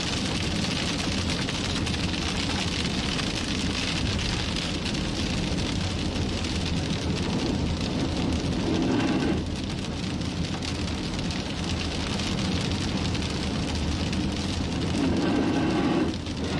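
Heavy rain pours down hard in College Station, Texas, a dense, steady hiss of drops drumming on surfaces with low thunder rumbling beneath, continuous and close throughout with no one speaking.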